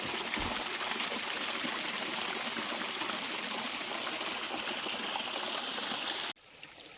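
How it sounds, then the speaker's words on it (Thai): A waterfall in a deep forest makes a continuous, full rushing roar of falling water that stays loud and steady. It cuts off abruptly near the end, leaving a much quieter trickle. "น้ำตก"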